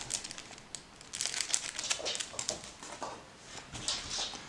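A folding knife, the Dulotec K262-GN, is unzipped and pulled from its black nylon sheath, giving close, irregular crinkling and rustling handling noises with small clicks, quiet and without speech.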